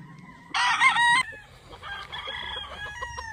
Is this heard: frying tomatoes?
no